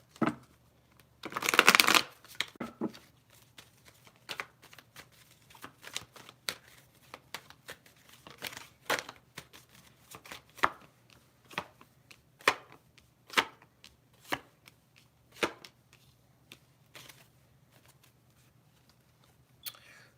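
Tarot cards being shuffled by hand, with a dense riffling burst near the start followed by a long run of soft, scattered card taps and slaps, close and fairly quiet with no talking.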